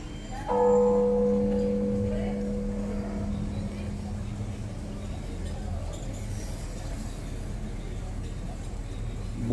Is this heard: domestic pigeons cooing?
no